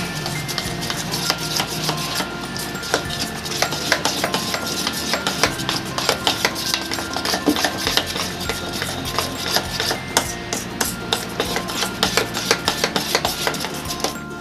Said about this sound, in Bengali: ইনোটাকে দিয়ে আমি আবার ভালো করে নেড়ে নেব